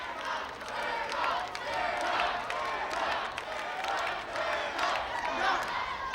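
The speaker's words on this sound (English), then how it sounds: "Crowd about 50-50 in terms of who they're rooting for." A crowd at an American Gladiators contest cheers and shouts in rising and falling swells, with clapping mixed in, under an announcer's commentary.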